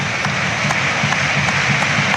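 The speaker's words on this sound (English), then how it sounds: "Orchestrated clapping." A stadium crowd at a Slovenia versus Northern Ireland Euro 2024 qualifier claps in an orchestrated rhythm, a dense steady wash of many hands with a faint regular pulse, heard from a distance and continuous throughout.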